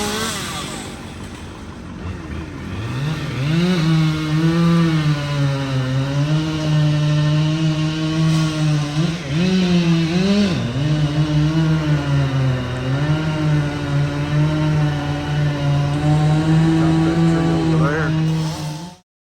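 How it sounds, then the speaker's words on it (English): A chainsaw runs close by, revving up and holding a loud steady drone, dipping briefly as it bites into old walnut tree limbs. "Sawing away them limbs, old walnut, fixing to be gone"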